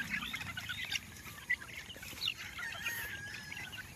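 Young chicks at an early-morning feeding: a flock of high, scattered peeps and soft clucks, fairly faint and continuous, with no one talking.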